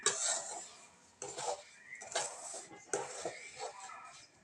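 A lid goes onto a pot holding rava laddu mixture, giving a few sharp metallic clanks and rattles in separate bursts, close and fairly loud against a quiet background.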